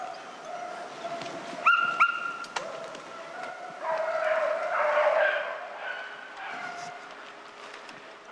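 Fauve de Bretagne hounds giving tongue on a rabbit hunt, several dogs yelping and baying in overlapping high cries at middle distance, with a brief louder burst of barks partway through and a continuous chorus afterward.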